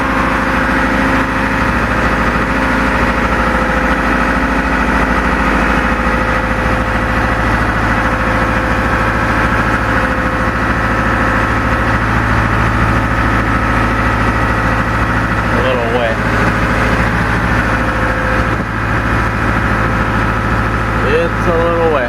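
A motor idles steadily in a shop before an oil change, a constant low rumble running through the whole stretch, with faint shuffling and small handling noises near the end.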